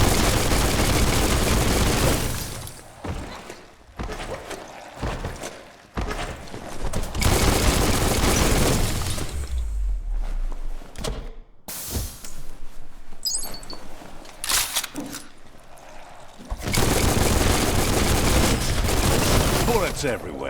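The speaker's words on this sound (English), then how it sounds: "Bullets everywhere." Rapid bursts of gunfire in the Biomutant video game, loud and close, coming in dense clusters with brief gaps of quieter ambience between volleys.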